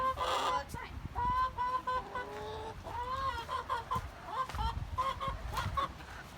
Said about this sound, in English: This is like the biggest and strongest chicken.